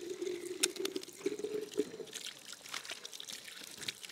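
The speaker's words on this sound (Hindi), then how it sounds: "ओके इसका ढक्कन पैक कर लेते, बाकी का इसमें पानी भर देंगे" Water pours into a pressure washer foam bottle, a close, soft trickling stream with a faint bubbling tone for the first two seconds, followed by light handling clatter.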